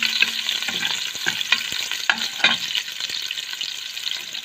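Garlic and onion fry in hot oil for a native-chicken tinola, a steady close sizzle broken by repeated scraping stirs of a utensil through the pan.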